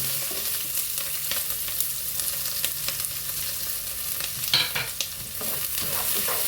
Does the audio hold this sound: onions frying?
yes